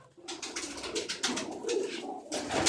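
Domestic pigeons coo in a continuous, murmuring chorus, soft throaty calls rising and falling close by with no talk.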